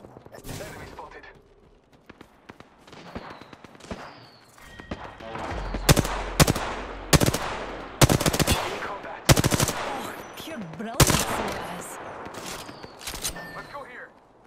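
Bursts of rapid automatic gunfire and sharp single shots in an Apex Legends firefight, loud and close in clustered volleys with pauses between, with a voice talking over parts of it.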